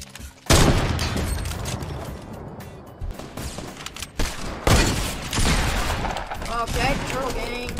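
Gunfire in the video game Fortnite: loud bursts of shots and booming impacts crack out in clusters across the clip, harsh and up front, with other game noise filling the gaps.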